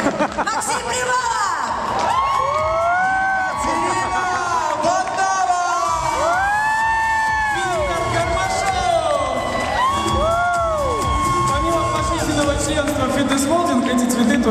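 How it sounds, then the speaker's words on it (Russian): A large event crowd cheers, whoops and shouts in a loud, continuous wall of sound for the hosts at a sports and MMA gathering, with whistles and shrill calls rising above the din. "Как вы считаете, наши ведущие достойны аплодисментов?"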